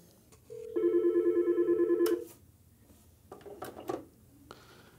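Yealink T41/T42 desk phone rings with an incoming call: one steady electronic trill with a warbling tone lasting over a second, followed by the clatter of the handset being lifted, close and without speech.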